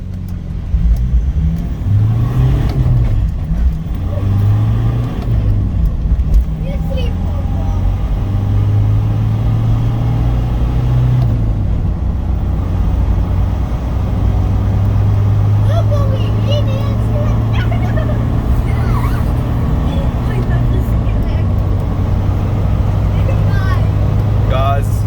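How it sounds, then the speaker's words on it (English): Tuned car with a remote remap accelerating hard from a standstill up to about 120 km/h through the gears into sixth, with a loud, steady engine drone and rising pitch steps heard from inside the cabin under occasional talk. "So I'm going to, from standstill, go to about 120 k's an hour to show you, the difference."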